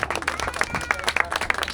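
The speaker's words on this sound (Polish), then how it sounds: "Wielkie brawa na stojąco, jak widzi Pan, dla Pana, Panie Janie." A standing crowd applauds the winner of the Wielka Ursynowska road race, dense clapping that runs throughout, with a voice faintly present underneath.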